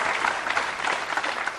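A crowd at a World 9-Ball Championship pool match applauds a shot, giving a dense, steady wash of clapping that holds at one level throughout.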